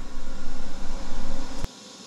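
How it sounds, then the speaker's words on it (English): A TIG weld set at 160 amps on a Titanium Vulcan welder gives a steady, loud buzzing hiss that runs unbroken and then cuts off abruptly as the arc stops. "so we're gonna get welding here."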